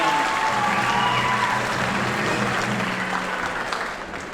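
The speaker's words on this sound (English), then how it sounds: "Big round of applause for" A school band concert audience claps for an award recipient, broad sustained applause filling the room, staying strong before easing off slightly at the end.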